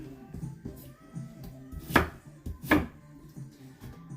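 Fennel being chopped with a knife on a board, soft intermittent cuts with two sharper knocks against the board, fairly quiet and close, with faint background murmur.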